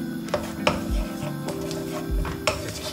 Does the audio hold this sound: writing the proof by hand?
no